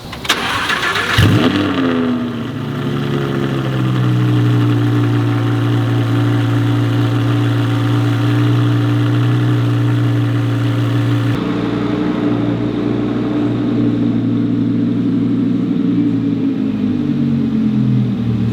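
Audi R8 V10 Plus with a straight pipe exhaust fires up with a sharp crank and bark, then settles into a loud, deep, steady idle that holds until the end with a slight change in tone partway through.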